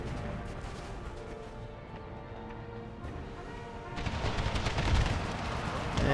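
Napoleon cannon and musket fire in an Empire: Total War battle mod, a dense clatter of distant gunshots that swells into a heavier, louder volley of booms over a steady game soundtrack.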